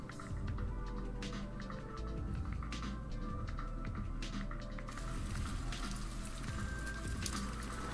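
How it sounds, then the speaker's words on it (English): Rain sound effect from a game under development: a steady, soft patter of raindrops with scattered drips, continuous and fairly quiet throughout. "now my white cloud will turn dark and it will start raining"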